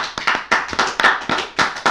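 A small audience at a speedrun event claps by hand, the claps loose and uneven and close by, with no voices.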